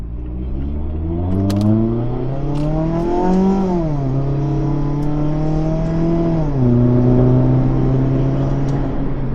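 A car engine idles then rises and falls in pitch as the vehicle pulls away and drives off, a close steady drone with gear-like shifts and no talking.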